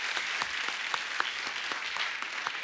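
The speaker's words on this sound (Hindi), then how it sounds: "और एक बार जोरदार तालियां हो जाएं" Steady audience applause fills the room at a stage event, dense and continuous clapping with sharp individual claps standing out, moderately loud and without talk throughout.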